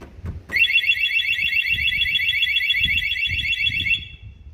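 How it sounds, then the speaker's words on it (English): A Piaggio Fly 125 scooter alarm blares loud and close, a rapid warbling electronic tone running steadily for about three and a half seconds before cutting off, with faint low rumbling beneath. "So alarm on, fairly loud."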